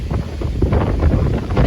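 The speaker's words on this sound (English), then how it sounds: "you can hear the wind was really strong" Strong gusts buffet the microphone by the River Shannon in Ireland, a loud continuous low rumble and roar with no other clear sounds.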